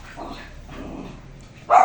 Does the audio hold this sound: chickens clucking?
no